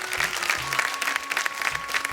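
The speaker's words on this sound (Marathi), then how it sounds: "एकदा जोरदार टाळ्या तुमच्यासाठी झाल्या पाहिजे." Studio audience applauding on a Marathi television show, steady loud clapping throughout with a faint tonal hum beneath.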